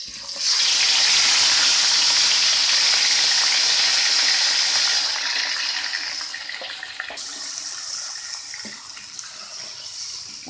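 Marinated chicken hits hot oil in a karahi for shahi chicken karahi, bursting into a loud, dense, continuous sizzle that holds strong for several seconds, then eases slightly while still hissing steadily up close, with no talking.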